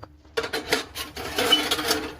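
A metal lid clanks and scrapes against a pot of simmering fish curry, a few close rattling knocks and a short sliding rasp, with no talking.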